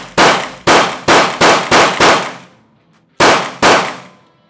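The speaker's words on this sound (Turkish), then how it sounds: "Biraz yukarı atış yapıyormuşum gibi kamerada gözükebilir." Seven sharp, loud pistol shots from a Canik handgun at an indoor shooting range, five in quick succession, a pause, then two more, each with a short ringing decay.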